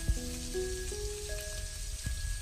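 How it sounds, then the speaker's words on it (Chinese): Pork ribs stir-frying in a wok, a soft steady sizzle with light crackle, faint and close, while a few sustained musical tones play over it. "把排骨炒成视频中这样"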